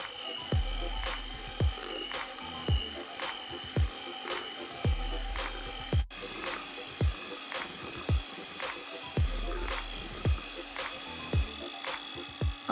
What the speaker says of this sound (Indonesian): lalu kita nyalakan lagi dengan mixer kecepatan tinggi